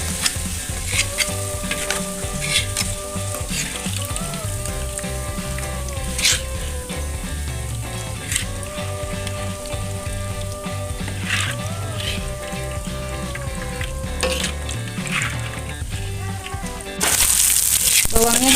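Shallots fry in hot oil in a pan for Padang-style sambalado, giving a steady close sizzle with repeated scraping stirs of a spatula, and a brief louder burst at the end.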